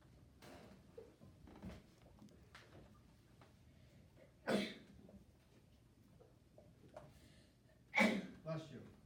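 A sharp sneeze bursts out in a classroom during a sixth-grade math lesson on decimals, followed a few seconds later by a second, louder sneeze, with quieter noises and shuffling between them.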